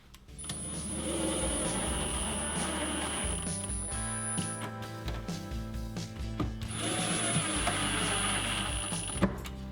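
A power driver whirs in two long bursts, driving screws from behind into a plywood drawer front on a kitchen pantry cabinet, close and fairly loud with a pause between.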